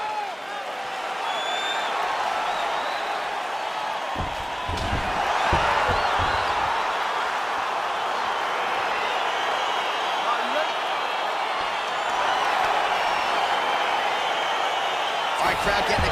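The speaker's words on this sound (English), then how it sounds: "Crowd getting excited as this fight gets underway" A crowd roars and cheers at the opening of an EA Sports UFC 4 bout, Israel Adesanya vs. Tango Shaolin, as a steady, dense wall of arena noise that swells slightly partway through.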